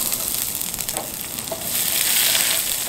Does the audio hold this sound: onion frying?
yes